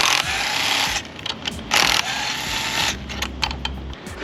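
Ratcheting and metallic clicks as the two 10 mm bolts come off the top carburetor of a Yamaha 70HP outboard, close and steady with bursts of busier mechanical noise and no talk.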